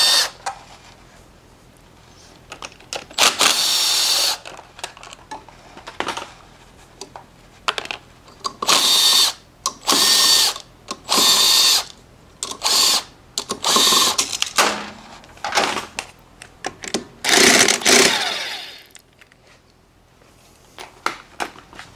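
A power drill spins in repeated short whirring bursts with brief pauses between them, loud and close, as it removes the stator bolts on a Honda Ruckus scooter engine, no talking.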